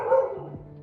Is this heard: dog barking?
yes